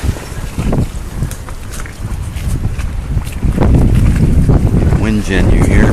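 Strong north wind during Hurricane Sandy roars and buffets steadily, loud and close with heavy gusty rumble building in the second half; a faint voice is heard briefly near the end.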